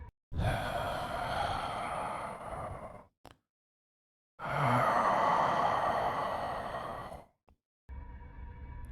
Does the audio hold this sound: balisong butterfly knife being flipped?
no